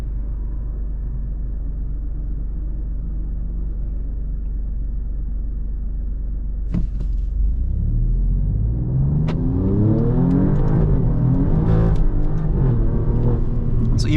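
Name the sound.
Alfa Romeo Stelvio Quadrifoglio engine on track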